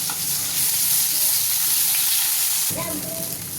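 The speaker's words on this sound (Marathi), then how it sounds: "चांगलं परतून घेतलंय मसाला तेल सुटेपर्यंत" Ground masala paste frying with cooked mutton in oil, a loud, steady sizzle throughout with a brief shift of scraping stir near the end.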